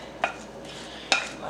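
A utensil stirs breakfast potatoes in a pan, with two distinct scraping clinks against the metal over a faint kitchen background.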